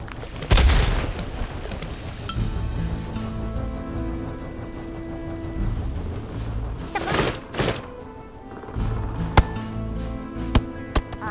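Cartoonish bomb blasts from the Worms W.M.D. artillery video game, with a big boom near the start and another burst around the middle, set among game music and small effects, loud and close.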